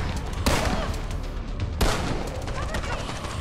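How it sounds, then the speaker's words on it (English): Rapid gunfire in the video game Blackout Protocol: dense, loud bursts of shots with two heavy blasts standing out, continuous and close, with a voice faintly present underneath. "now they're shooting at me"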